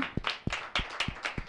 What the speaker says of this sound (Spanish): Un aplauso, chicos, para él